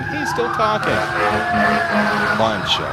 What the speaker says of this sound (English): That's a fire truck, or I think an ambulance.